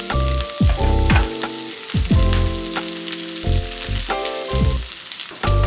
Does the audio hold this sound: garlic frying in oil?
yes